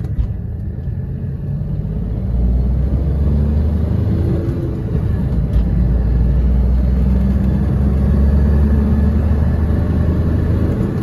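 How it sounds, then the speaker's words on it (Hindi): A loud, steady Chevrolet Beat car engine roar with deep rumble, revving up and holding high RPM, close by and continuous with no talking. "आरपीएम इसमें आप जब भी खींचोगे ना गाड़ी को, तब आपको इसमें भाई बहुत ज़्यादा नॉइस आती है"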